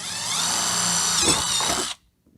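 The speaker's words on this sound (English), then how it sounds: "we're going to drill through the liner, just in the center of that hole" A power drill whines at high speed, biting through a plastic wheel liner on a 2019-or-later Dodge Ram 2500/3500 for about two seconds before spinning down and stopping abruptly.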